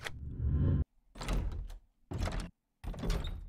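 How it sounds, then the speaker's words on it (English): A wooden door in the video game 7 Days to Die opens and closes four times in separate bursts, each a close, hollow thunk and scrape followed by brief silence. "That sounds like a wooden door."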